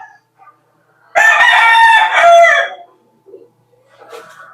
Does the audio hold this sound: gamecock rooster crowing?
yes